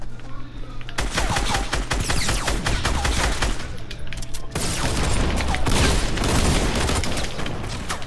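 Dual pistols fired in a video game, with dense rapid gunfire and booming impacts rattling on continuously, pausing briefly before a second loud, thick volley amid busy game sounds.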